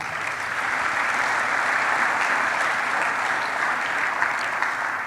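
A church congregation applauding, a sustained, even roar of many hands clapping that fills the whole stretch without pause.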